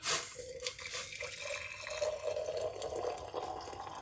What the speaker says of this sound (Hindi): अब ये गर्म पानी मैं इसके अंदर डाल दूंगी